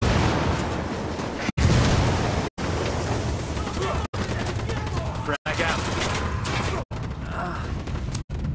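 Dense, continuous gunfire and blasts in the Ghost Recon Wildlands video game, including a frag grenade explosion, forming a loud, unbroken wall of combat noise with several abrupt near-silent cuts.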